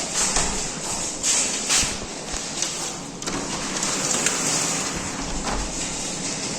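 Heavy rain and hail lash down during a strong windstorm in Kunowo, a loud, dense hiss with gusty surges and scattered sharp impacts, close and continuous with no talk over it.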